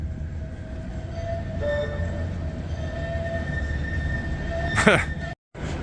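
A tram rolls along a city street, a steady rumble with metallic wheel squeal and a faint horn-like tone, heard amid ambient street noise with a brief sharp clatter near the end.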